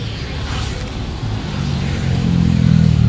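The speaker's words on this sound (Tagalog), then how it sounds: "Sandali lang, ilakla natin yung motor natin." Motorcycle engine idling and revving on a Makati street while a rider carrying a passenger stops to park, a steady low rumble that grows louder and fuller toward the end.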